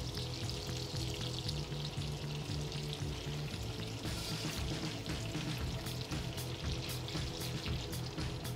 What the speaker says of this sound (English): now those leeks are browning. Just gonna add the pierogies.